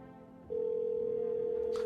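A video-game telephone sounds a single steady electronic tone that switches on abruptly and holds flat and loud, over a faint background hum, with a brief soft burst near the end.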